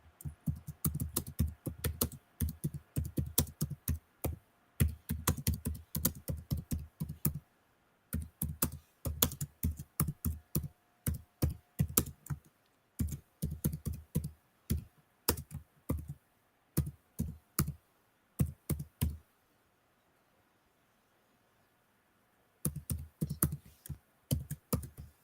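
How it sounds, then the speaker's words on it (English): Keys on a computer keyboard clatter in quick bursts of typing, a question being entered, broken by short pauses and one longer gap of near silence before the tapping resumes. "now I'm going to type another question for Jeff"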